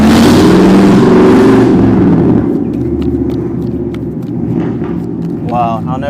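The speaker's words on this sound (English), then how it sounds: "Car is loud as hell." A loud car engine roars past close by, dense and rumbling at first, then fading to a lower drone as it moves away.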